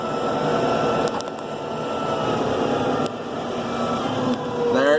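A T5.120 tractor in AutoShift mode downshifts on its own under load from 7th to 6th to 5th, its engine droning steadily with small surges and dips in pitch as gears step down, moderately loud and nearby.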